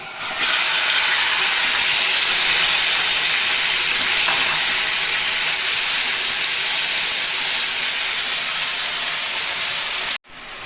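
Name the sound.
chicken frying in white oil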